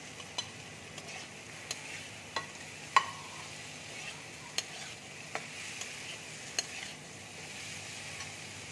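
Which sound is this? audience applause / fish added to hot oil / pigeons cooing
fish added to hot oil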